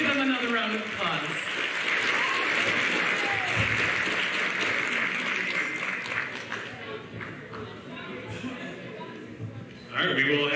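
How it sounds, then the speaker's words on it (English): A crowd at an eighth-grade awards ceremony gives a sustained round of applause, full and steady for several seconds before thinning out and trailing off, then a brief burst of sound near the end. "Please give them another round of applause."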